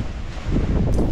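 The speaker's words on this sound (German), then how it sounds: "Der Wind ist stärker geworden als gestern Abend" Strong gusty wind buffets the microphone on a desert track in the Sahara, a loud continuous roar that swells toward the end.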